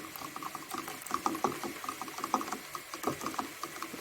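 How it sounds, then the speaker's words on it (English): Water cooking off around nearly cooked chicken in a pan gives a steady bubbling sizzle with scattered pops and crackles, close and moderately loud, with no voices. "So the chicken is very almost cooked. I'm just letting that little bit of water in the bottom cook off as well."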